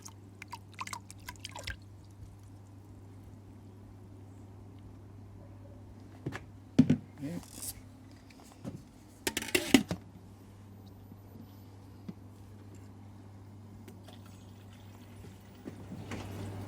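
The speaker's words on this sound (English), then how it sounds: "so that's going to go in the water now" Brewing salts of calcium chloride, gypsum and Epsom salts poured into water for beer brewing, a few faint drips and short splashes scattered over a steady low hum.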